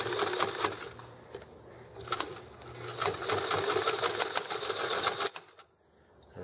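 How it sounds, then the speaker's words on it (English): Sewing machine stitching across a drawstring bag in a fast, loud, rapid mechanical chatter with brief pauses, running steadily for about five seconds before stopping abruptly into near quiet. "since I didn't have to be pulling pins, I could stitch pretty quickly across there"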